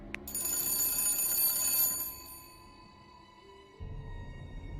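Old telephone ringing in a haunted house, its cut cord left dangling; a bright, sustained bell ring sounds loud and close, then stops abruptly and gives way to a low rumble.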